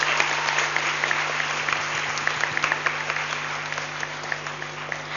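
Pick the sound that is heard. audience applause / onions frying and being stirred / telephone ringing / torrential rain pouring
audience applause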